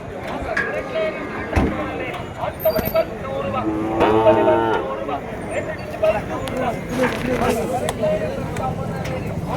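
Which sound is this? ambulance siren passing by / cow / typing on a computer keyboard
cow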